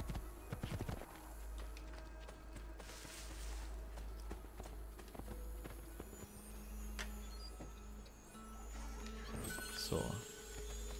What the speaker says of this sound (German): Guck mal, das Pferd folgt uns tatsächlich echt ein bisschen.